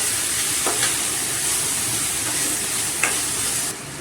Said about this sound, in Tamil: கொஞ்சம் நேரம் மாங்காயை பச்சை வாசம் போகிற அளவுக்கு நம்ம வதக்கிக்கலாம்